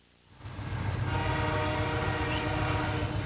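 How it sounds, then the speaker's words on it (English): A 10-car Canadian Pacific holiday train wrapped in lights rolls past a rural Wisconsin crossing, its loud rumble swelling in quickly and staying close, with a sustained horn sounding over the rolling wheels. "a 10-car Canadian Pacific train wrapped in lights goes past, then stops"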